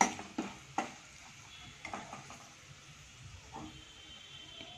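Turmeric and chili powder being stirred in a pan for carrot rice, with a few sharp spoon scrapes against the metal at the start and softer stirring under a faint background hiss.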